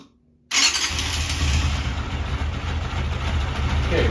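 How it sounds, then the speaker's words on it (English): After a brief silence a GP motorcycle engine catches and settles into a steady, slightly fast rumbling idle with the choke up, close by and fairly loud. "idling with the choke up a bit, which means it needs a little more fuel"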